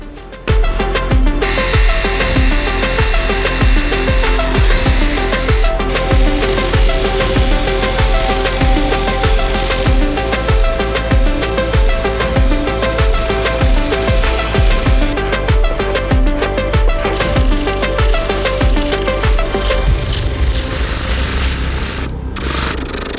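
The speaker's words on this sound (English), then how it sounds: "and then get back to sanding" A vintage cricket bat is sanded by hand, with continuous close rubbing strokes in a fast, even rhythm that runs loud and unbroken for over twenty seconds.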